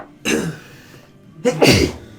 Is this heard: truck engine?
no